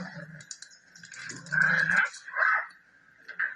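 A dog whimpers and growls in a cartoon, soft whining broken by a couple of louder growling bursts, close and fairly quiet with no talk over it.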